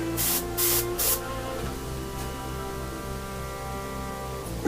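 An airbrush sprays paint over coloured pencil in short hissing bursts, three quick puffs at first and a faint one later, over a low steady hum.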